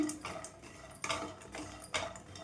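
Dry coconut being roasted in a pan, with quiet, rhythmic scraping and clinking strokes against the metal about once a second.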